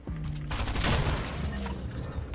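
Burst of SMG gunfire in a Fortnite duo match, a dense crackling volley that swells near the middle and persists through the short stretch, loud and close with game noise around it.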